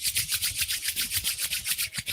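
Two palms rub briskly together to build heat during a seated practice, making a steady, rapid back-and-forth swishing close by, roughly seven strokes per second, with no talking.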